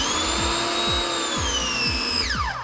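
A Ryobi 1900 PSI electric pressure washer motor whines at a steady pitch with a repeating pulsing rhythm underneath, then winds down as it shuts off near the end.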